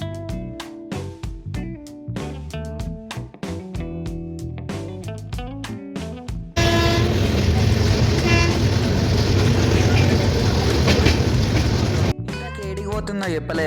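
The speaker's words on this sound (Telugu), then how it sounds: "ఇవాళ నైట్ ట్రైన్ ఎక్కినాం" A passenger train on the Pune to Lonavala line at night: loud, steady rumble and rattle of the carriages through the middle stretch, framed by tonal horn-like toots at the start and end, with no talk.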